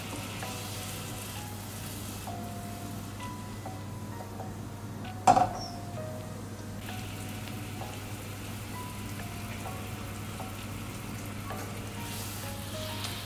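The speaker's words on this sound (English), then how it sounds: "So I'm just swirling the pan. I mean, it's starting to bubble a little bit." Sugar syrup for toffee apples starting to bubble in a pan that is being swirled: a quiet, steady fizzing simmer with faint popping, plus one brief sharp clink partway through.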